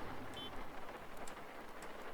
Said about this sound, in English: Oh, and it's still raining.